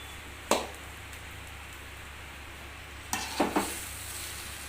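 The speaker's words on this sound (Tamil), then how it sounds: "சாப்பாட்டை போட்டு கிளறிக்கலாம்" Cooked rice being stirred with spice powder in a pan, a few soft scraping clicks of the spoon over a low steady hiss, quiet and close with no talk.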